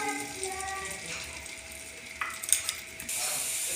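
Onions sizzle in a masala for a potato and boiled egg curry, with a spoon scraping and stirring the pan in short bursts, then a louder, steady frying hiss.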